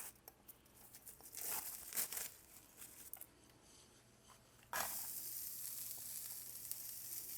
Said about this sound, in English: sizzling going here